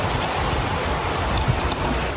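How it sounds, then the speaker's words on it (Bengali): Heavy evening rain pouring steadily outside a balcony, a dense continuous hiss with scattered drop patter, loud and close throughout without any talk. "মাগরিবের পরে বৃষ্টির সাউন্ড শুনতে এত ভালো লাগতেছে এত জোরে বৃষ্টি আসছে"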